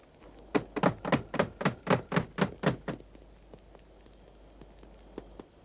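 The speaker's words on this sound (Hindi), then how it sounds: "दरवाजा तोड़ रहे हैं।" A door is broken down in a dramatized Urdu-dubbed historical drama: about ten heavy, rapid thuds batter it in a steady rhythm for a few seconds, close and loud, then stop, leaving a quiet room with faint ambience.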